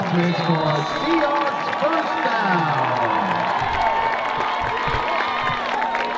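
A crowd cheers and claps for a play at a boys varsity high school football playoff game between Redondo Union and Aquinas, a loud, sustained roar of voices that never lets up.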